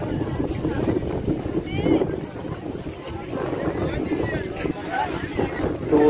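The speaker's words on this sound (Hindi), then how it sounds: "देखो बारिश आ गई है, चलो पल्ली, पानी बहुत तेज हो चुका है" Outdoor storm during a roadside religious food offering, with strong gusting wind buffeting the microphone and rushing rain noise, loud and continuous, while people's voices are faintly heard underneath.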